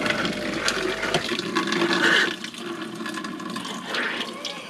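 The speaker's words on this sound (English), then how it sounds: "We got running water in the van. We got a freaking sink, dude." Running water pours steadily from a pump-fed sink tap inside a rebuilt 1980s van, a continuous close splashing rush lasting a few seconds with a brief clunk at the end.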